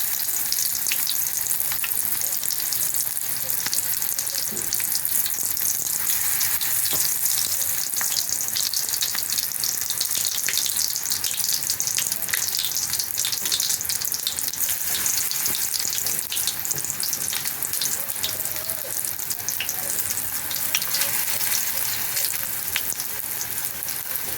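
Okra fries in plenty of deep oil, producing a dense, loud, continuous crackling sizzle that holds steady throughout, close and with no one speaking.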